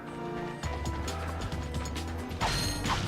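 Metallic clinking and ratcheting pickups of bolts in the Ratchet & Clank game on PS3, dense and continuous over a low steady game tone, with a louder burst of chimes near the end.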